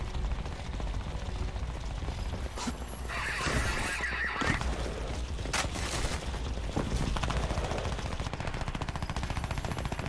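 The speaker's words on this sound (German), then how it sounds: "Also ich höre aus dieser Richtung hier Schüsse." Crysis 2 gunfire crackles in bursts over a dense, busy soundscape with horse whinnies and hoofbeats mixed in, loud and continuous throughout.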